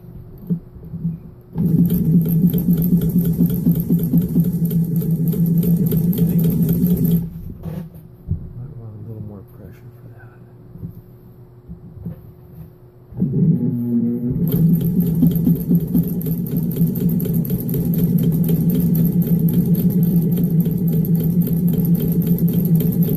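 A Singer 15-91 home sewing machine stitching several layers of leather, a steady loud mechanical whir running in two long bursts with a quieter pause between them, close up.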